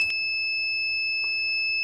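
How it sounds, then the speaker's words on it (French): A temperature alarm built from an LM35 sensor and LM324 comparator on a breadboard sounds a steady high-pitched electronic tone that runs unbroken throughout, with a faint click near the start. "l'alarme se déclenche tout de suite parce que la température doit être inférieure à 21 degrés"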